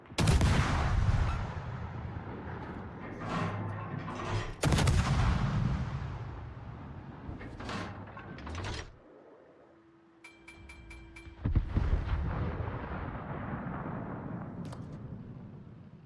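Naval guns firing in World of Warships, heavy booming salvos and rumbling blasts in several bursts, with a quieter lull of beeping interface tones between them before the shelling resumes.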